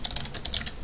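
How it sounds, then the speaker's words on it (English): Java code is typed on a computer keyboard: a quick, close run of light key clicks in an uneven rhythm, lasting under a second. "So I'm going to go ahead and type import"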